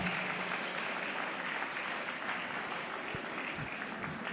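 Scattered applause from an audience at a professional lecture, a steady wash of clapping at moderate level across the whole stretch, with no voices on top.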